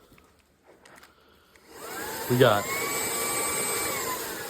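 Hoover ONEPWR Evolve Pet Elite cordless stick vacuum starting up after a few spoken words, spinning up to a steady high whine and loud motor drone that holds to the end.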